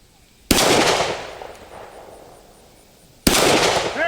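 Two sharp, loud reports from a Glock 20 SF 10mm pistol about three seconds apart, each followed by a ringing decay and a faint metallic ping from a 3-inch steel plate target outdoors.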